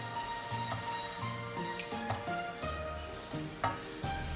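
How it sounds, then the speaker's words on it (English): A spoon stirs rice in rice milk in a pot on the stove, making soft scraping strokes under a steady gentle sizzle and simmer, close and quiet, with a few light clinks against the pot. "Keep stirring as often as possible as the rice should not get stuck to the bottom."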